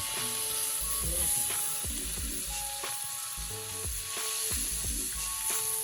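Pieces of Katla fish crackle and sizzle steadily in oil, a close, bright frying hiss broken by repeated clanks and scraping of a spatula against the pan.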